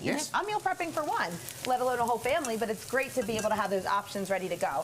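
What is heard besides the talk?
food sizzling in a frying pan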